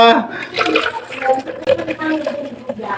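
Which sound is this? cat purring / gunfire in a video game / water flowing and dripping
water flowing and dripping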